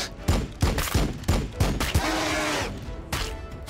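Gunfire from the Warhammer 40k Battlesector video game as units shoot at gargoyles, a series of loud, regularly spaced shots with a short sustained burst in the middle and no talk over it.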